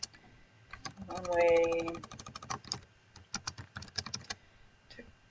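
Fast typing on a computer keyboard into a text box: dense bursts of close, crisp key clicks in quick irregular runs, with a brief spoken phrase over the start.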